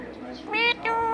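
Pet parrot mimicking a cat's meow, two short rising meow-like calls in quick succession, close and fairly loud.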